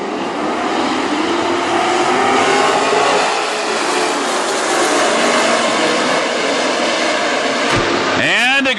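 WISSOTA Super Stock race cars roar away at the green flag on a speedway, a dense, loud wash of engines with a track announcer talking over it and a sharp whine sweeping past near the end.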